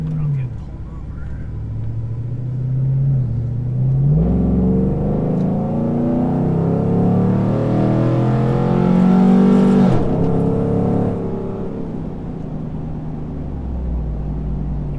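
Tuned performance truck engine accelerating hard, a loud close roar climbing through a long pull from about four seconds, with a brief shift near ten seconds before settling. Low rumble underneath throughout.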